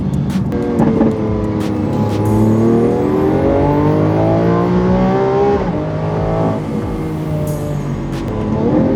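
A loud Lamborghini Aventador S engine revs up through several rising gear pulls on the road, shifting and climbing again, with a continuous roar and whoosh of passing road noise.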